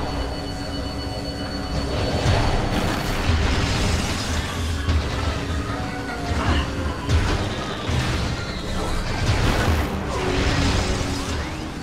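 Missile blasts and crashing impacts in Metroid Prime, with repeated loud booms and bursts close together over a steady background of game sound, with no talking.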